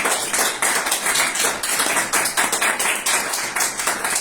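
A church congregation claps together, producing a dense, continuous wash of applause with a loosely pulsing rhythm that stays loud and even throughout.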